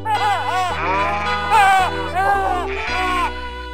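Sheep bleating from a flock kept by shepherds in the fields, loud and close. Several wavering bleats come one after another over a low steady drone, continuous through the stretch.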